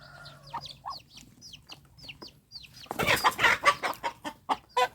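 Chickens on a farm cluck and chirp in short repeated calls, close and moderately loud, with a brief noisy flurry partway through and a run of sharp, regular clucks toward the end, no talking.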